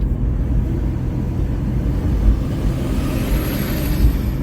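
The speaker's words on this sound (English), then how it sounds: "I got this big ass dump truck in front of me" Steady, loud low rumble of a large dump truck driving ahead in traffic, a continuous engine and road drone with no distinct events.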